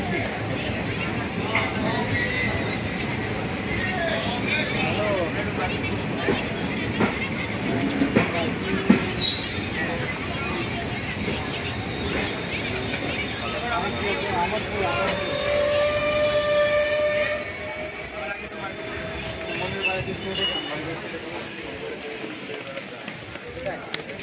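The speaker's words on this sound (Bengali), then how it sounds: "জানালার দিকে চোখ রাখতেই বুঝলাম ট্রেন পার হচ্ছে অজয় সেতু" Train crossing the Ajay river bridge, wheels rumbling and clattering steadily with squealing rail tones building mid-way, heard from aboard as a person speaks over the noise.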